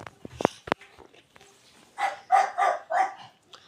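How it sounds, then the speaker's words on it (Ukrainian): A dog barks in a quick cluster of four or five yips and woofs near the end, preceded by sharp clicks and knocks in a quiet room, moderately loud and alone without speech. "в мене там собака гавкає"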